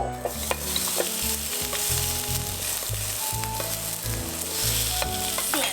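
Tofu sizzles and fries loudly in a hot pan, a constant crackle with occasional scraping stirs and a low hum beneath.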